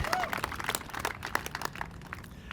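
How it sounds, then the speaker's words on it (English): Outdoor audience at an indoor aquatic center groundbreaking ceremony, clapping in a scattered, moderate round of applause with a few brief voices mixed in. "So if you want to give me a round of applause for the weather"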